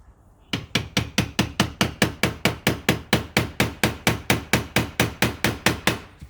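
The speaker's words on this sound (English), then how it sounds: "I chiseled the head off." Steady rapid hammer blows on a chisel cutting the head off a rusted screw while installing a screen door, about 24 sharp, evenly spaced metallic strikes, close and loud with no talking.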